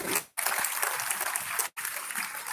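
A crowd at a school annual function applauds steadily with dense, even clapping, briefly cut off twice.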